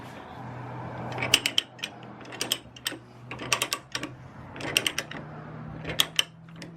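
A Harbor Freight pipe threader turns in reverse on a pipe in a garage, giving clustered sharp metallic clicks and ratcheting ticks in short bursts over a low steady motor hum, close and fairly loud.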